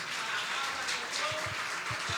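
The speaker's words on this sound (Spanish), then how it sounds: "Denle un aplauso al Señor" A church congregation applauds in praise of the Lord after a sermon on the rapture of the Church, a steady, fairly quiet wash of many hands clapping with a few deeper thumps underneath.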